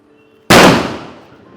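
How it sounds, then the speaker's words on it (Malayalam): A single loud firecracker bang goes off sharply after a brief quiet moment, its blast echoing and fading slowly, a ritual firecracker offering at Thriprayar Sree Rama Temple in Kerala. "തൃപ്രയാർ അമ്പലത്തിലെ ഏറ്റവും പ്രധാനപ്പെട്ട മറ്റൊരു വഴിപാടാണ് വെടി വഴിപാട്"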